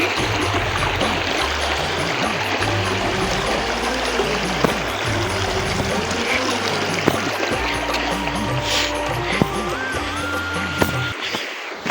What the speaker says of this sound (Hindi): और तो हम फाइनली पहुंच चुके हैं नदी में।